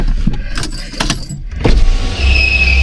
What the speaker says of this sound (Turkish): Götüreyim arabayı ön tarafa.